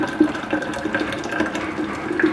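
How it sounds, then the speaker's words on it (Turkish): Freshly boiled water pours into a thermos, a steady close trickling gurgle with small splashes, running on its own without talk. "Termosunuza su koyuyorum."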